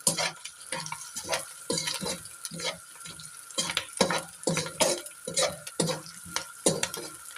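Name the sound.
chicken Manchurian frying in pan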